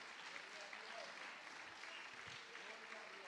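Applause from a church congregation rises in a dense, steady patter throughout, moderately loud and continuous as a crowd claps together.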